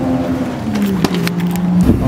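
A car on a track day drones past at steady engine pitch, then the tone dips briefly as the revs shift and it carries on, loud and close throughout.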